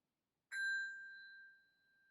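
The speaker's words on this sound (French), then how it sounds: "Il fallait bien que je vous la fasse sonner à un moment donné, hein" A Montessori bell struck once with a hammer rings a clear, pure metallic ding that sustains and slowly fades over about a second and a half, close and alone.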